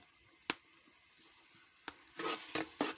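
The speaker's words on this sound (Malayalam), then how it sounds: "ഇളക്കി കുറച്ച് വയ്ക്കുകയാണ് ആ ടൊമാറ്റോ ഒന്ന് പാകത്തിനായി വരുന്നുണ്ട്" A spoon stirs tomato masala for fish curry in a hot pan, giving a few sharp scrapes followed by a short burst of soft sizzling and squishing, close and fairly quiet.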